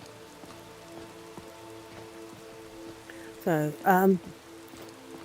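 Steady rain falling in Skyrim VR, a soft continuous patter held at an even level throughout, with a brief voice cutting in near the end.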